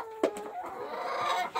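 Hens of the Dominant breed cluck and cackle up close in a backyard coop, a sharp squawk near the start followed by a steady stream of overlapping clucks, with no talking.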